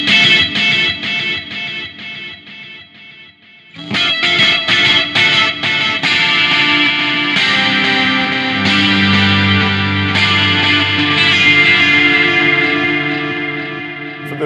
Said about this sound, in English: I have a kind of sort of really sort of aggressive, clean sound